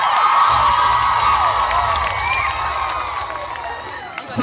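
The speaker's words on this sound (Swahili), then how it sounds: "Some noise for your teachers and the administration." Students in a school crowd cheer and shout for their teachers and the administration, a loud sustained roar of young voices that eases slightly toward the end.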